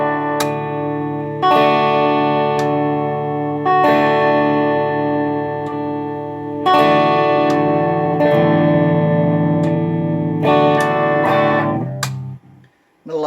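Squier Starcaster electric guitar played through its ceramic bridge pickup, loud sustained strummed chords changing every few seconds over a long stretch, close and continuous before a brief drop near the end, no speech.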